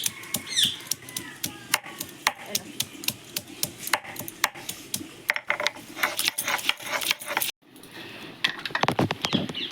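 Ginger and green chillies are ground for a Bengali peas ghugni recipe. Rapid, close knocking and scraping strokes repeat in a steady rhythm, with a brief pause near the end and no speech.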